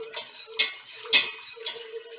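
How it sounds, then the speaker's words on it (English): A metal whisk stirring a roux in a pot, with four sharp metallic clinks against the pot in a steady rhythm over a faint background hum, close and alone. "Now I chose to change to a whisk, okay, for this step"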